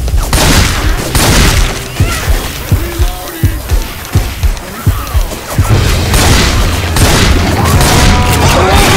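A grenade goes off in Left 4 Dead 2 with a heavy boom, followed by a rapid run of sharp thuds and crashes, then loud dense game chaos.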